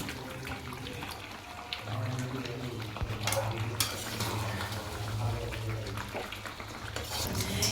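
Water is poured into a pot of chicken biryani with potatoes after the masala is cooked down, a steady pouring and sizzling wash running throughout at close range, with faint talk underneath.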